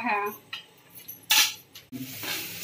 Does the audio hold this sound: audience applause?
no